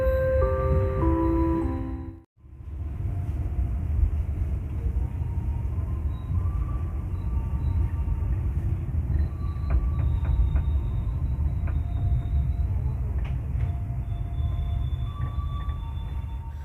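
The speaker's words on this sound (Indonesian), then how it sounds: "Kereta api Serayu Malam berhenti di stasiun Cikampek, berhenti normal" The Serayu Malam train sits idling at Cikampek station with a steady low rumble and faint squeals and clanks, after a brief dropout near the start; no voices.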